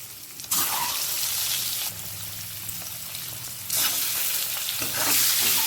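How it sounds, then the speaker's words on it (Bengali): Eggs fry in hot oil with loud, crackling sizzling that surges and eases in waves, intensifying sharply near the end, close up and with no voices. "ডিমগুলোকে আমি তেলে ছেড়ে দিচ্ছি"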